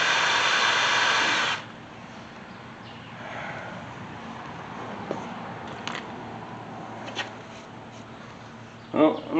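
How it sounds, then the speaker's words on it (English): A power drill bores into an engine part during an LS motor swap into a 1977 IH Scout, a loud steady whir for about a second and a half before cutting out, followed by quiet shop ambience with faint scattered clicks and taps. "I'm going to take a drill and try to go in as straight as I can."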